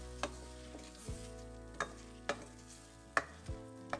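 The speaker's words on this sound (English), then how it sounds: "Saute until they turn translucent. Add in the garlic and tomatoes." Garlic and tomatoes sautéing in a pan with mustard seeds, cumin and fennel, a quiet sizzle broken by about eight distinct spoon taps and scrapes, with a low hum underneath and no voices.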